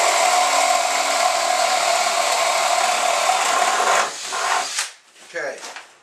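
Power drill driving a spade bit through a door, a loud, steady whirring grind that holds for about four seconds, then winds down with a few shorter bursts and the rasp of the cut easing off.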